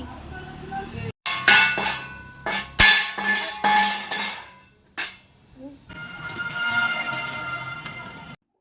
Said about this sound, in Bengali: পুজো শেষে এবার বাসন ধোয়ার দায়িত্বটা তার ঘাড়েই পড়েছে।